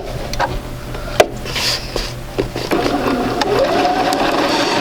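A sewing machine runs a quarter-inch seam along quilt squares, its close mechanical whir rising and settling with short pauses and a sharp click as the fabric is turned, no talking.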